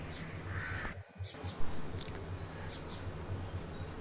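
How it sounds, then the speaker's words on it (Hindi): Crows cawing outdoors in the morning, a few sharp repeated calls at a moderate distance over steady background noise, with a brief drop-out early on and no talk. "बहुत प्राकृतिक हवा मिलती है और पक्षियों की चहचहाहट के साथ बहुत अच्छा"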